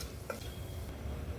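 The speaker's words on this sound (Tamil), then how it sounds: "இது எல்லாத்தையும் நல்லா பொரிய விட்டுக்கலாங்க." Whole spices like fennel, bay leaf, star anise, cinnamon, cloves and cardamom sizzling softly in hot oil, a faint close crackle with one light clink of a utensil.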